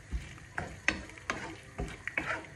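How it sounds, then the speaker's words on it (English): A stock cube is stirred into a cooking mixture in a pan, with about six distinct spoon scrapes and knocks at a fairly even rhythm over a quiet, faint sizzle. "So stir the stock cube into it."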